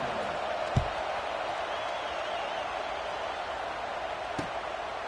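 A stadium crowd in the NCAA 26 college football video game gives off a steady, even roar of broad murmur with no swelling cheers, and two brief soft thumps break through it.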